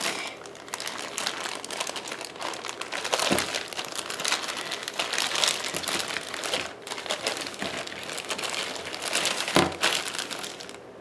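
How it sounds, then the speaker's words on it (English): Shiny washi tape crinkles and rustles steadily as it is handled while setting up a paper planner, a busy close crackling texture with a few sharper thumps and no talking. "Let's add some shiny washi tape,"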